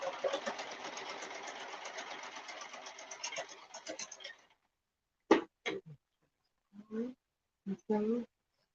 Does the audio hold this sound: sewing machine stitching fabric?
yes